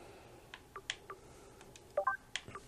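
In-game notification in South Park: The Stick of Truth, a handful of faint short electronic beeps and blips scattered over a few seconds, with no talk.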